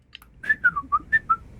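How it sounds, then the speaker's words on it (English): Someone whistles a short, bright tune of about six quick notes, each sliding slightly, clear and close with nothing else behind it. "Don't do the whistle."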